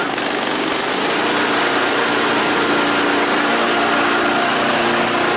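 A lawn mower engine runs at high, steady revs with the cutting blade engaged, a loud, close, continuous buzzing drone with no break and no voices.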